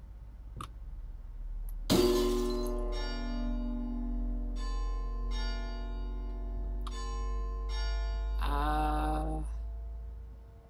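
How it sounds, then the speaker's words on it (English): Church bells set off by a piano in the horror game Layers of Fear ring out as a series of loud, resonant bell strikes with long ringing decays over a low constant drone. "I did not know pianos can actually make church bells go."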